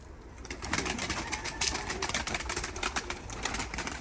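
Tumbler pigeons cooing and fluttering outdoors, a busy mix of soft coos and wing flaps against a steady background wash.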